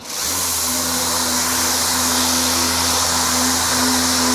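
A power sander with 80 grit paper working over a dented car body panel during auto body repair, a loud steady close whine with a constant motor hum that starts abruptly and runs without pause.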